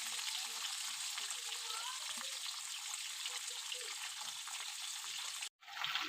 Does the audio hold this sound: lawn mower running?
no